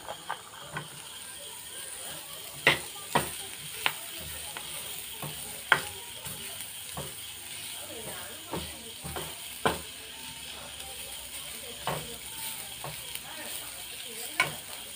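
Onion, curry leaves and green chillies fry in oil in a pan for masala kachori, a soft sizzle under repeated sharp scraping clicks of a spatula stirring at an uneven rhythm.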